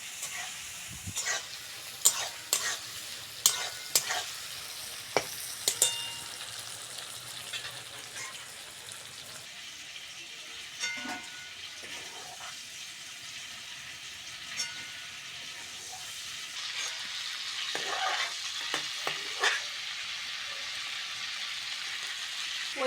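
Prawns crackle and sizzle in hot oil for a long stretch, with occasional sharp pops and spoon scrapes, close and without any talking.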